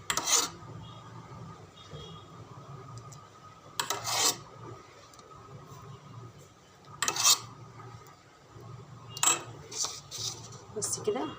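Rice pudding is scooped with a spoon into plastic containers, with repeated scraping and clinking bursts at intervals against a quiet room and faint background voice.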